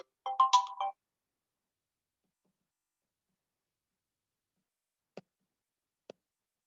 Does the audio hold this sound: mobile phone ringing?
yes